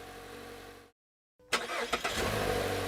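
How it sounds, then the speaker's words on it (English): A 2014 Mazda 6 with the SkyActiv-G engine, first running, then a brief silence, followed by a push-button start: the starter catches with a few sharp bursts and the engine settles into a steady, fairly loud idle. "After starting the engine, let it idle for about 10 seconds."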